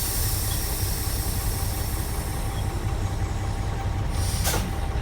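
A truck's air brake system venting pressure during a brake test: a loud, continuous broadband hiss from the air lines, with a brief sharper burst of escaping air near the end.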